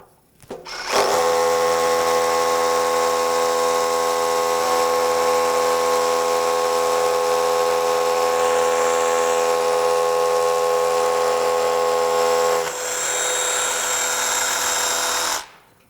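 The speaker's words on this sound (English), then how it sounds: "Now let's drill the same hole with the Power Stack." Compact brushless DEWALT Atomic 20V SDS Plus rotary hammer on a Power Stack battery, drilling a 5/32 inch hole: close, loud, constant hammering drone of about twelve seconds that shifts in tone briefly, then keeps running before cutting off.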